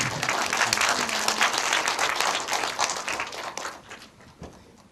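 A cinema audience at a screening Q&A for the 2012 film Pluto applauds to welcome the director, a loud, dense burst of clapping that gradually thins and fades toward the end.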